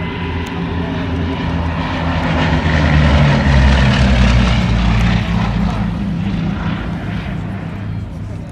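A Blenheim aircraft flies past at the Duxford airshow, its propeller engines producing a loud, sustained droning roar that swells in the middle and stays strong, with voices present under the engine noise.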